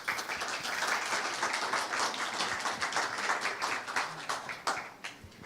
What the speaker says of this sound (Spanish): La vamos a recibir con un aplauso a doña Katia.